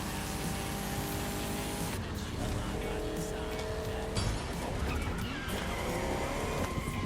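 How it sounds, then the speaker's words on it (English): Engine roar and tire noise from a car in the video game The Crew Motorfest, with a skidding slide after a tap of the handbrake. The sound runs loud and continuous, and a voice talks over it. "I tapped the handbrake there and I slid out"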